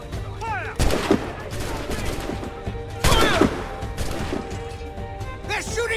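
Musket volleys from soldiers in Assassin's Creed Rogue, two loud crackling bursts of many overlapping shots a couple of seconds apart, with shouting voices and game ambience around them.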